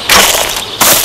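A long-range rifle shot in the hunting game Hunting Unlimited 2009, two loud sharp cracks about 0.7 seconds apart, each with a brief fading tail, heard alone.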